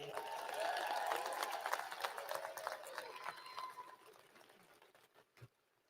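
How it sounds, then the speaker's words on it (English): Graduates applaud themselves at a 2022 College of Business commencement, clapping from a large hall heard faintly at a distance, fuller at first and then fading away over several seconds. "Give yourself a round of applause."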